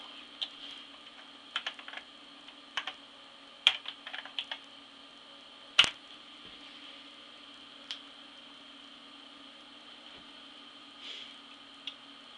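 Keys on a Tandy 1000 computer keyboard are struck in scattered, uneven bursts of sharp clicks, quiet and close, with gaps between taps over a faint steady hum.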